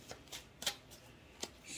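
Tarot cards are shuffled in a few quick, soft riffles and flicks, quiet and close, with short pauses between bursts.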